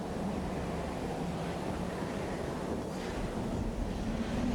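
Steady, heavy wind roaring without a break through an outdoor area in the video game Bloodborne, a broad rushing wash that stays loud and constant with no voices.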